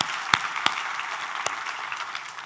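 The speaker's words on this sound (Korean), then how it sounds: "우리 하나님께 감사와 영광의 박수를 드리겠습니다" A church congregation claps during a worship service, a scattered patter of applause with a few sharp louder claps standing out, moderate in level and without talk.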